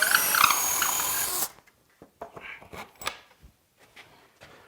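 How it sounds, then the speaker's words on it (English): A power drill whines loudly for about a second and a half drilling a hole through a wooden brace, then stops, followed by a few clattering knocks and handling sounds. "And then I'll drill a hole in the bottom and link the two together."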